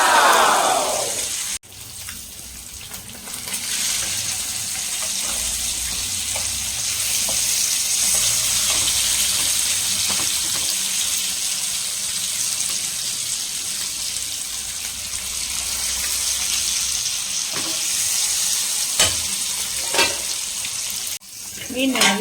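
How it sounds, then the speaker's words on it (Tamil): Fish sizzling steadily in hot oil in a nonstick pan for a fried fish dish, a dense close frying hiss that holds for the whole stretch, with a few brief clinks and a short break near the start. "மீன் நல்லா பொரிச்சு எடுத்தாச்சு."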